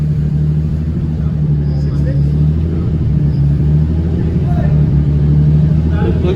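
A Toyota Supra engine runs close by with a loud, steady droning hum that holds at a constant pitch throughout, with no distinct rev spikes.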